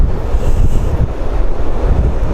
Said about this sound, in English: And here's the ocean.